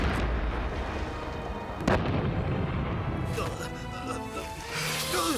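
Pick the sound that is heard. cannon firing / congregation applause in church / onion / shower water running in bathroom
cannon firing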